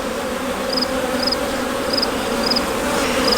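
Honey bees drone in a dense, continuous buzz around an opened brood box of a backyard hive, loud and close, with no voices.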